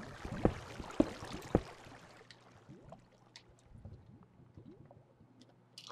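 Water flows and gurgles inside a cave in a blocky survival video game, a faint, continuous trickle after three sharp knocks near the start.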